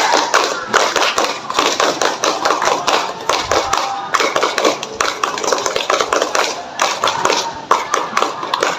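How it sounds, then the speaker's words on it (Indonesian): Seventh graders in a school volleyball PE session perform the Indonesian scout clap three times, repeated bursts of crisp, fast patterned group clapping filling the stretch with short gaps between rounds, near and loud. "3 kali tepuk pramuka."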